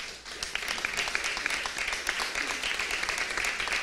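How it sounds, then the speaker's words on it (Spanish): Church congregation applauds during a Spanish-language Pentecost sermon, a steady dense wash of many hands clapping, moderately distant and continuous throughout. "Démosle un aplauso fuerte al Rey de Reyes."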